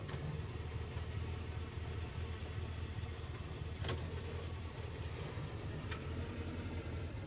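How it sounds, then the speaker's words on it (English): Willys M-38 jeep engine idling steadily in low range with no throttle, a faint, even low rumble heard from outdoors with no voices. "And this is the low range, no throttle input."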